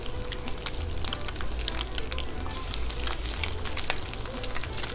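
Eggs frying in a pan for roast beef hash wraps, a steady crackling sizzle with dense popping spatters, close and even throughout.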